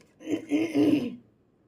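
A single rough, throaty throat clearing, close and fairly loud, lasting about a second before fading.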